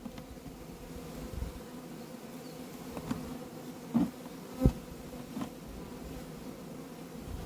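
Honeybees buzz softly at a beehive entrance, a faint continuous hum with a few louder passes as individual bees fly close to the landing board.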